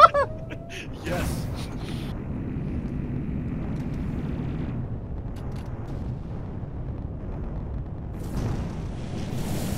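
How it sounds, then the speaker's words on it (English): Ships blown apart by an explosion in a space video game: a deep, sustained roaring rumble starts abruptly around the first second and carries on steadily to the end, swelling slightly near the close. "I think that explosion literally destroyed some of your ships"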